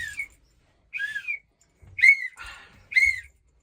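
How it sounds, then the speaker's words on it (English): Whistle blown in short, shrill, rising chirps in the woods after an eight-point deer is downed on a hunt, four separate bursts with brief gaps, fairly close and clear. "I want to blow the whistle like game's over"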